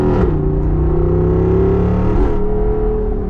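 A Jeep Wrangler 392 V8 accelerates hard and close, its engine roaring steadily and climbing through first gear with a brief shift-like dip before pulling on.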